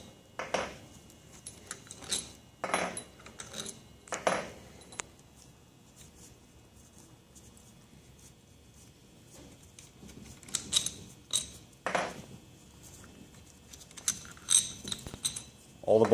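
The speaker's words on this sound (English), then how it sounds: "While you're removing these bolts, you will like to keep pressure on the head" Bolts are loosened and pulled from a pump's reagent head, giving short scattered metallic clinks and rattles in several bursts separated by quiet stretches.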